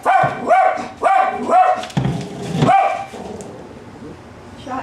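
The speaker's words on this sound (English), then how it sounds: "She barks all the time." Shotzi, a blind 16-year-old small dog, barks in a quick string of four or five loud, close, high yips, then one more after a pause, with faint indoor quiet between.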